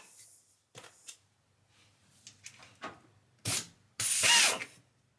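An air hydraulic rivet nut tool, a RivetLab X12-P, sets an M4 rivet nut: soft clicks and handling noises, then two short loud pneumatic hisses and bursts close by.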